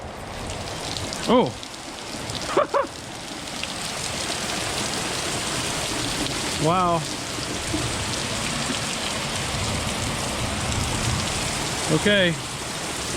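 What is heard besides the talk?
rain falling during storm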